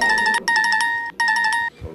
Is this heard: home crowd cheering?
no